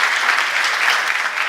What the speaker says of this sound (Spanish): Recibamos, por favor, como se merece, don Ricardo León, con un fuerte aplauso.